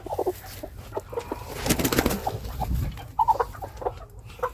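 A purebred Cochin hen sitting on Australorp and mixed eggs gives a run of low, soft clucks and grumbles, close by and fairly quiet, with a louder burst of fussing in the middle.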